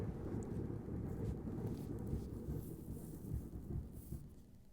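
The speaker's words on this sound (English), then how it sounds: "All of the thunder going on." A thunderstorm in the video game Cataclysm: Dark Days Ahead: a continuous low rumble of thunder mixed with steady rain hiss, moderately loud and sustained with no talking.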